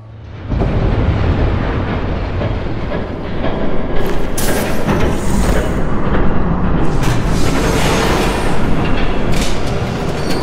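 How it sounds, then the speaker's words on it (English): In a Batman video game, a train rumbles past loud and close, a heavy continuous roar with clattering and metallic screeches building over about ten seconds, no voices. "There's a train coming."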